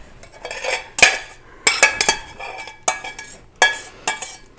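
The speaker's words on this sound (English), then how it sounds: "I hit the pan without the pot holder" Metal cookware clanks and clatters in a home kitchen as a pan is struck and handled while cooking beef stroganoff, with several sharp, loud, close knocks arriving in irregular bursts.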